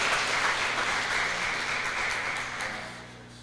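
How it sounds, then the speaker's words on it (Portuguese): A church congregation applauding at a service, a dense wash of many hands clapping together loudly, fading slightly toward the end. "Palmas para Jesus."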